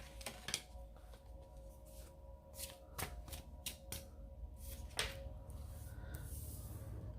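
Everyday Witch Tarot cards are shuffled by hand in a quick series of soft riffling bursts and crisp flicks. The sound is close and fairly quiet, with no voices.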